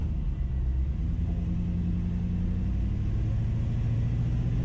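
A Chevy C60 truck swapped onto a Silverado chassis drives along, its engine giving a steady, loud low rumble that holds evenly throughout with no talk over it.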